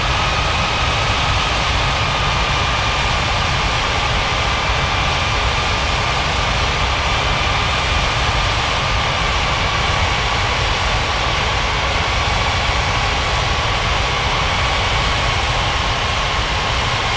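Steady airliner engine roar, a UPS cargo jet on approach to land on a runway in an air traffic control mobile game, constant and loud throughout with a faint high whine, no talk.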